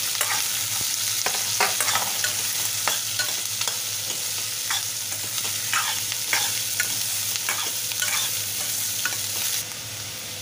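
Onion sautéing in a pan for a bread tomato sandwich sizzles steadily, with repeated scrapes and clicks of stirring over the frying, close up and with no voices.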